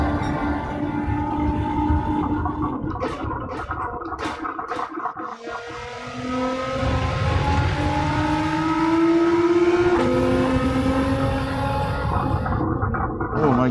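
Nissan GT-R race car in Gran Turismo 7, its engine droning steadily with rising harmonic pitch sweeps as it accelerates and shifts, loud and continuous through the lap with a brief dip midway.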